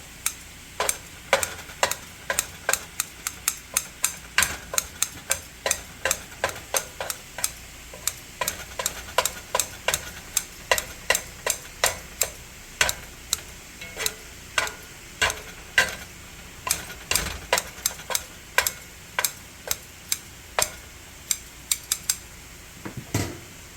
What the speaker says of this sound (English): if you have a good pair of kitchen shears, you can actually just chop them like this roughly in the pan